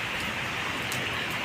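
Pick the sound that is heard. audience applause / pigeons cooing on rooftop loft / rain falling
rain falling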